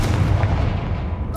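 A Confringo fire spell blast from Hogwarts Legacy, a loud, dense whooshing burst with heavy low rumble sustained for over a second, alone without talk.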